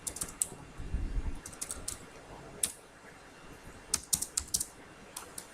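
Keys clacking on a computer keyboard as a column name is typed into a Python data-analysis command, quick irregular taps in short bursts with pauses, close and fairly quiet.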